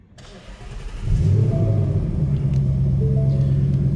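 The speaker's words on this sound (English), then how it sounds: "we're going to go ahead and fire this up so you can hear it run" A 2018 Ford Mustang GT Fastback's V8 engine cranks and fires up, rising into a deep, burbling idle that rumbles steadily nearby.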